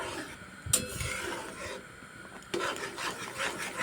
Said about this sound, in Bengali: সুজিটাকে আস্তে আস্তে এভাবে দিয়ে নেড়ে চেড়ে এটাকে সুন্দর করে একটা ডো তৈরি করে নেবো